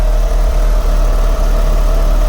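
A Mitsubishi Evo GT-A engine fitted with a Monster Sport turbo intake idles steadily, a loud, continuous low rumble with a faint hum and no talking.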